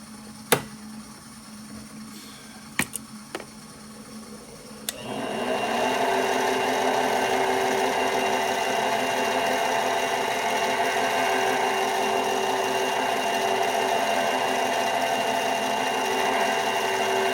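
A few sharp clanks, then a milling machine spins up to drill a large hole on slow fine feed, a steady, loud whirring drone with a high tonal whine that continues without letup.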